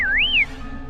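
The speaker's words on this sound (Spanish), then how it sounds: "El silbido era tenue, como si un niño jugara escondido entre los árboles." A faint, airy whistle rises and falls in a single wavering tune for about half a second, then a thin tone lingers over a dark, quiet nighttime backdrop, like someone hidden among trees in a moonlit forest.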